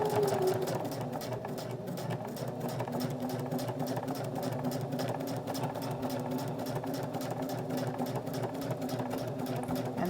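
A sewing machine stitches fabric for a key fob holder, a rapid even mechanical chatter running steadily up close throughout, slowing slightly at the start, with no talking.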